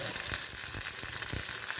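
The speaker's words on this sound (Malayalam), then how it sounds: "മഴയായതുകൊണ്ട് കറിവേപ്പില വെള്ളം ഉണ്ടായിരുന്നു അതാണ് കൊട്ടുന്നത് ഈ ശബ്ദം കേട്ടുന്നത്" Rain-wet curry leaves and dried red chillies hit hot oil for a Kerala koottu curry, giving a dense, steady sizzle with sharp spluttering pops bursting through at close range, no voices.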